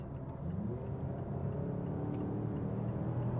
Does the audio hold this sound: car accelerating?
yes